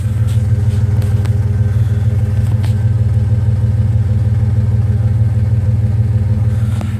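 Exhaust from a warmed-up Toyota 4Runner fitted with a Thrush muffler idles close by with a deep, steady rumble, continuous and even throughout, with a few faint clicks on top.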